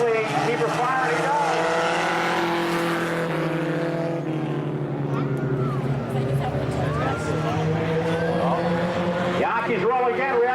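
Race cars circle a 3/8-mile roadster oval inside the Milwaukee Mile at Tosa Raceway Park, their engines whining and rising and falling as they pass, with a commentator talking over the racing.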